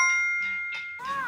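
Notification bell dings brightly several times in quick succession, ringing and close, with a chiming tone on the last hit and no talking.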